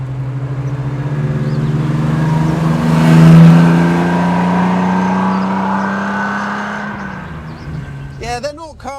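A Triumph TR6 held in third gear pulls through tight corners, its engine a steady, deep, torquey drone that rises gently then settles, heard from inside the car, with a few brief clicks near the end.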